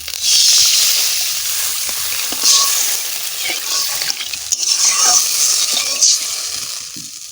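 Water poured into frying spice paste for a rohu fish malai curry, loud close hissing and bubbling with stirring and scraping throughout, no speech.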